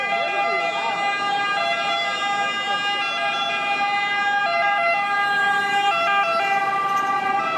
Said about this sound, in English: That's the fire truck.